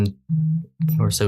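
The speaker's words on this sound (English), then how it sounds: "sorry about my phone" A phone's notification tone sounds twice, each a short, steady electronic beep, loud and close, with someone speaking just before and right after.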